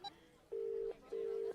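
Two long steady electronic ringback tones sound over a quiet background, each lasting under half a second with a pause between, as an outgoing phone call rings on the other end.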